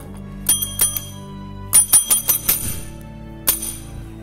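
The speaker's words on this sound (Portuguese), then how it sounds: "Aqui tem até um sininho, que é pra quando as crianças estiverem bagunçando." A small hand bell in a church children's room rings in several quick bursts of bright, sharp dings, loud and close, with brief pauses between groups.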